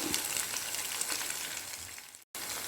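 Potato cheese nuggets deep frying in hot oil make a soft, steady bubbling sizzle, fairly quiet and close, with a brief dropout near the end and no voices.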